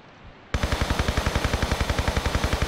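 Rapid automatic fire from an MP5 submachine gun in Tomb Raider 3, a sudden loud burst starting after a quiet moment and continuing as an even, fast stream of shots to the end.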